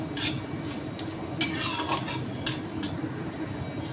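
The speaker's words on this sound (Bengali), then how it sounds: "এসব জিনিস ঢিমু আঁচেই নাড়তে হয়।" Ground spices being stirred in a pan over low heat, with a soft background hiss and a few sharp metallic scrapes and clinks of a utensil against the pan, close by.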